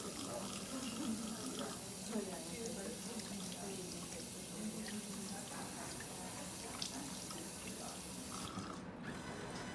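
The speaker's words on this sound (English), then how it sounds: "wash my hands" A tap runs steadily into a sink as hands are washed, a continuous close splashing stream that cuts off abruptly near the end.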